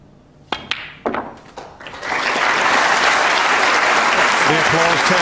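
Loud, dense applause from a snooker semi-final audience swells after a few sharp knocks and thuds, sustaining as a steady wash of clapping to the end, with faint talk beneath.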